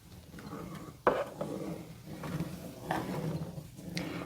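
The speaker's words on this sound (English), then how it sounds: "I'm just going to add my vanilla and give that a little stir" A spoon stirs melted chocolate with vanilla in a pot, soft scraping and clinking with one sharp knock against the pan, quiet and close.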